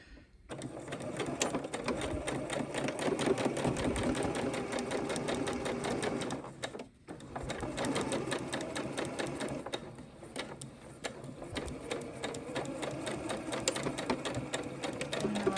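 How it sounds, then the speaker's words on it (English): A sewing machine runs in fast continuous bursts stitching a quarter-inch seam on fabric, with a brief pause near the middle before stitching resumes for a backstitch, loud and close, no voices. "we're going to just sew down our 1/4 inch line. And we're going to do 3 stitches forward, 3 back again."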